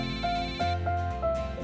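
A phone ringtone plays a repeating electronic melody of short tonal notes in a steady pattern, moderately loud and close, with no voices over it.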